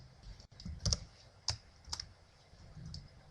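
Quiet typing on a computer keyboard, a handful of separate key clicks and taps spread unevenly across a few seconds, close by, with no talking.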